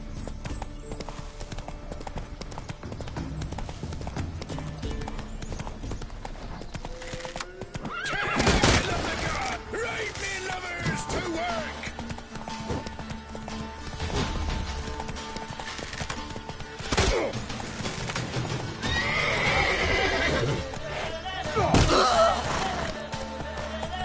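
Horse in The Witcher 3: Wild Hunt video game, steady clip-clopping hoofbeats of a gallop with several loud neighs and whinnies, mixed with game music, effects and a voice speaking.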